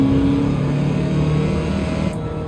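In Gran Turismo 7, a car made up to look like Herbie revs its engine in a short, loud, steady drone that dips slightly near the end.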